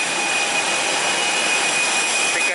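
A loud, steady Citilink airliner jet engine whine and roar fills the air close by during boarding at Halim Perdanakusuma Airport, with a thin high-pitched tone held throughout and no voices.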